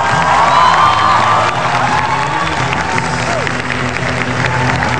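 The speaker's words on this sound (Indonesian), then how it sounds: "Selamat malam, tepuk tangan." A television studio audience in Jakarta applauds and cheers as the DKI Jakarta governor is welcomed on stage, with a dense, steady wash of clapping and whoops, loud and continuous throughout.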